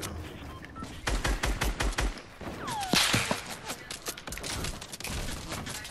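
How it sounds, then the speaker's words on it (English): Rapid bursts of automatic gunfire from a Fortnite Battle Royale match, loud and close, with dense volleys of shots and a sweeping whistle-like effect partway through, no talking. "Why are you shooting me instead of the guy in front of you?"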